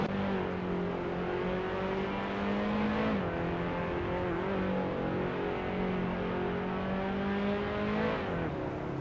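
Engine of a 2020 Geely Binrui race car in a video game holds a steady high drone through the whole stretch, with brief pitch dips at gear shifts around three and eight seconds, loud and close, no talking.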